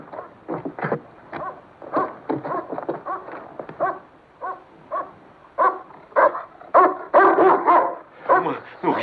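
A dog barks repeatedly in a scene from a 1972 horror anthology film, with rapid close bursts coming in uneven clusters, mixed with voices.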